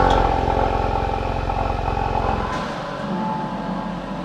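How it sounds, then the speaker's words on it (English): An Audi RS3 engine runs after a cold start with a loud, fast, throbbing idle. The sound drops partway through into a quieter, rougher running. "And now I guess it's time for another cold start."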